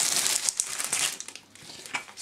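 A plastic bag is opened and handled close by, with a continuous crinkling and rustling that has sharp bursts throughout, and no talk over it.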